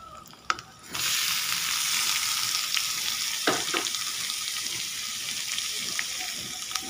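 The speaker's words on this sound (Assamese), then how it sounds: "ইয়াত মই এতিয়া আলুখিনি ঢালিম" Boiled potatoes hit a hot oiled pan with a sudden loud hiss after a quiet start, settling into steady, continuous frying and sizzling with an occasional clink.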